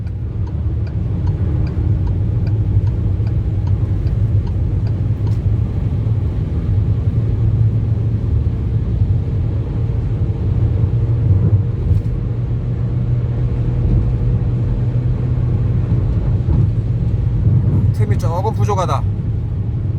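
A 1600cc Citroën C4 Picasso drives on a road and overtakes, with a loud, steady low engine and road rumble heard from inside the cabin and a voice talking over it throughout.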